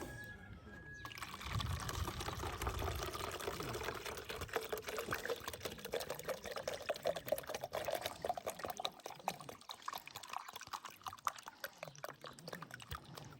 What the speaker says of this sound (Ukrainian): і заливаємо воду